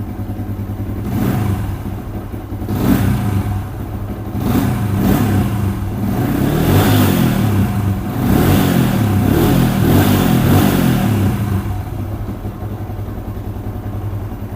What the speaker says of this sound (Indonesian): mesinnya masih halus dan suara knalpotnya seperti ini cuy